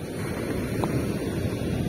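Big surf at Ujung beach, a coast with a turtle farm, comes through as a dense, continuous roar of waves mixed with gusting wind buffeting the microphone, loud and close with no speech.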